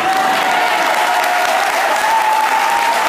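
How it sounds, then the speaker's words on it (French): Church congregation at a Cameroonian service applauding and cheering loudly, a dense continuous wash of clapping with a steady raised tone running through it, sustained and close throughout. "On met les acclamations."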